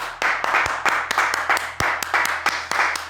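Rhythmic clapping rings out in short bursts, about a dozen crisp claps at a steady pace, close and clear, with no talking over it.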